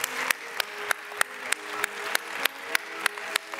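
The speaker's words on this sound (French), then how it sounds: "Applaudissez-les encore, ça fait 15 fois." Audience applause fills the room at the opening ceremony of Les Arcs Film Festival, a steady patter of many hands with a few crisp, evenly spaced claps standing out near the microphone.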